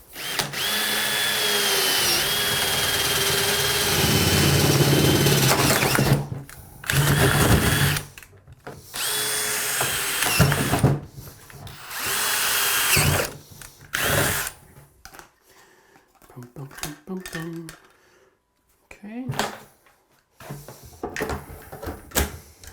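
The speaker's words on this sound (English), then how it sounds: "Drill my new holes" A power drill whirs in loud bursts, revving and stopping several times with short pauses and some clattering between runs.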